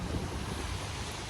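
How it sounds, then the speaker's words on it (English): Heavy rain pours down outdoors in a dense, steady roar of broadband hiss with a deeper rumble underneath, loud and constant, with no talking. "it just started pouring down rain"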